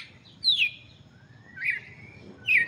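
Several birds in an aviary give short, bright chirps and tweets in three distinct bursts over a low, steady background hum, fairly quiet and with no talking.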